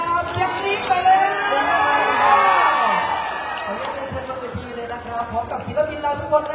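A large crowd at a live Thai stage show cheers and shouts in welcome, with loud whoops and excited voices swelling and then easing, while scattered clapping blends into the noise.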